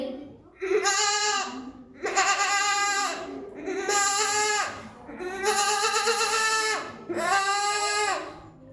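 A voice imitates a goat, giving five loud, wavering bleats in steady succession with short pauses between them.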